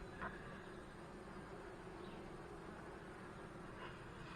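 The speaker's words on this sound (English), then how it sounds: "the bees are getting out" Honey bees stream out of a hive on a warming spring morning, a faint, even, continuous hum with no other sounds.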